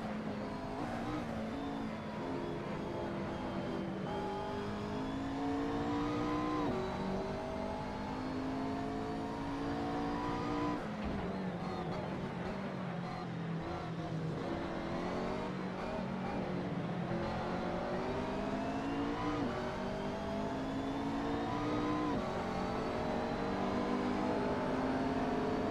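McLaren race car engine in Assetto Corsa career mode, a continuous high-revving whine rising and dropping through gear changes over a long stretch, steady and fairly loud throughout.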